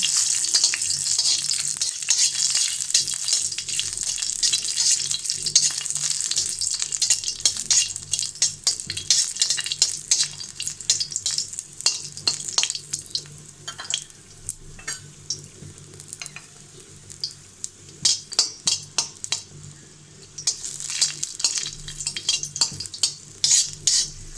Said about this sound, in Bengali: রসুনটাকে আমি ভেজে নেব।